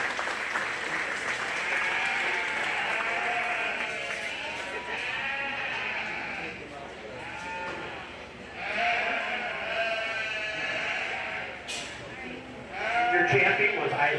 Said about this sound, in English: give all these kiddos a really nice round of applause for a really nice class.